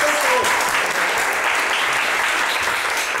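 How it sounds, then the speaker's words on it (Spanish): Steady audience applause during an onstage conversation, dense, continuous clapping from a seated crowd, loud and sustained throughout. "Hay un aplauso, por favor."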